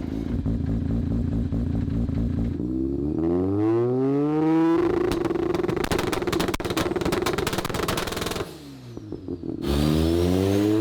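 A rotary-engine Chevy car idles and revs while warming up, loud and close, with rising and falling rasping exhaust swells, a brief dip in the middle, then climbing revs again.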